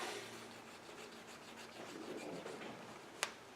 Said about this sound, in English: I either use a file to round this off here, this piece here